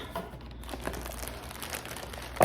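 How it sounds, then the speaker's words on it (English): Continuous crinkling of the plastic bag packaging a lace wig being handled during unboxing, with irregular rustles and a sharper crackle at the end, close and fairly quiet. "It comes in this plastic bag, just like this"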